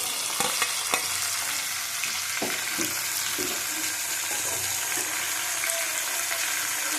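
Shrimp fry in a pan with a loud, continuous sizzle close up, while a spatula stirs and scrapes them in a string of irregular knocks and clacks; no one talks.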